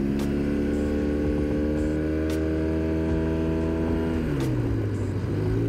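A Yamaha T-Max scooter engine runs steadily with a loud, droning hum whose pitch dips and shifts slightly toward the end, heard from on board with no speech over it.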